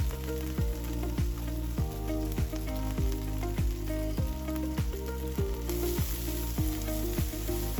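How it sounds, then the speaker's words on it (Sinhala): Finely chopped garlic fries in leftover butter and chicken oil, giving a loud, continuous close sizzle with regular scraping stir strokes and no talking. "අන්න ඒ ටිකටම අපි අපේ අර හීනියට චොප් කරගත්ත ගාලික් ටික එකතු කරගන්නවා."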